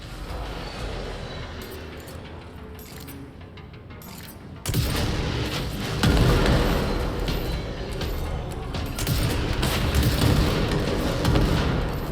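Gunfire from a weapon in Control erupts after a quieter stretch, a sustained loud barrage of blasts and crashing impacts that keeps pounding steadily to the end.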